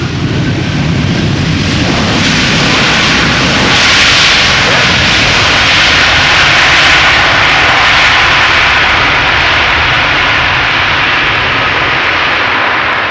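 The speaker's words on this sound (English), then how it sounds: "Next up, Delta Airlines Flight 162, arriving from Minneapolis, Minnesota as well." Delta Airlines passenger jet arriving at Amsterdam Schiphol Airport, a loud, steady, broadband roar of jet engines that swells slightly midway and fills the whole span.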